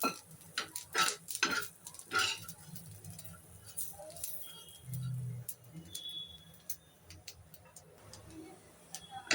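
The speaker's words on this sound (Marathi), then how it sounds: "तर आता आपला खोबरं पण भाजून झालेलं आहे." Grated fresh coconut being roasted in a pan gives a sparse series of scraping stirs and clinks against the metal, close and uneven, with faint sizzling between the strokes.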